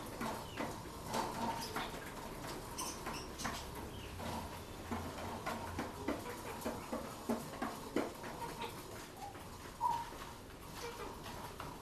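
Soft pigeon coos repeat throughout, a few close ones standing out among rustling and a busy background of other birds.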